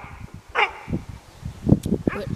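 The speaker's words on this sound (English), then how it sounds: "this dog is barking at me." A dog barks a few times, short sharp yaps and low woofs scattered over a couple of seconds, mixed with someone talking nearby.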